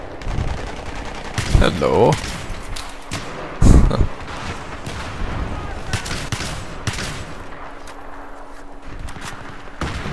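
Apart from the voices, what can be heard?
Saiga 12K shotgun firing frag rounds in Battlefield 3 video game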